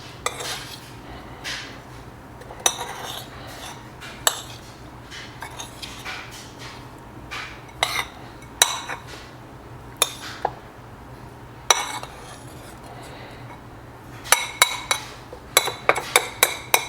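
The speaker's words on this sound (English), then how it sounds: "I like to put it in a bowl together and then mix it up" Food being mixed in a bowl as part of a day's meals, with a run of sharp clinks and scrapes of utensils against the dish coming in irregular bursts, close and fairly quiet against a low steady hum.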